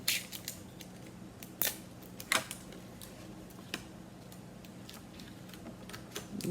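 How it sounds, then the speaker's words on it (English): Tape is pulled and torn from a roll and pressed onto a paper strip during a children's craft. Sharp scattered crackles and ticks sit over a low steady room hum. "Then I'm going to take my next strip and I'm going to do the same thing. I'm going to tape it."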